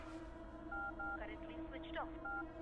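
A telephone being dialed: a series of short electronic tones, with sliding warbles in the middle, over a low hum.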